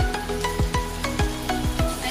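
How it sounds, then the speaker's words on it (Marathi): Capsicum sautéing in hot oil for a restaurant-style Manchurian gravy: a steady close sizzle broken by a regular run of sharp spatula knocks and scrapes against the pan, roughly three or four per second, with no voices. "आणि त्याला पण मी व्यवस्थित आता तेलामध्ये परतून घेते"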